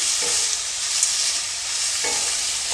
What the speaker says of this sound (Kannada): ಇವಾಗ ಟೊಮೊಟೊ ಸಾಫ್ಟ್ ಆಗೋವರೆಗೂ ಸ್ವಲ್ಪ ಇದನ್ನು ಎಣ್ಣೆಯಲ್ಲಿ ಫ್ರೈ ಮಾಡ್ಕೊಳ್ಳಿ